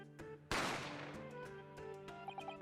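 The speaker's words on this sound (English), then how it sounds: "A gunshot rang out, so I hurried out to the dining area to see what happened." Single sharp gunshot sound effect in the video game The Great Ace Attorney Chronicles, one loud crack with a ringing decay, set against quiet game music with soft chimes afterward.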